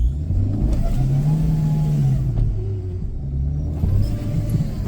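Renault Kangoo engine revving and rumbling as the car works through rough forest ground off-road, a loud, steady drone that swells and eases with throttle, close up and without talk.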